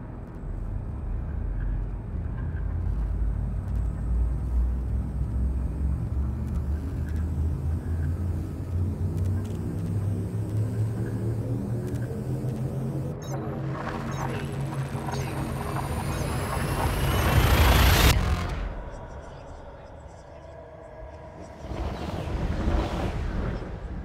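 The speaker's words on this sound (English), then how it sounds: "Drive charging." A spaceship drive in a video game charges up with a low rumble and a rising, sweeping tone that builds steadily before a sharp burst, then settles into quieter hum with a brief swell near the end.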